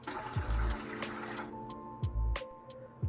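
Water pours into a big kettle as the base for a garlic dill pickle brine, a steady close splashing fill with a few louder gushes and low thumps, no voices.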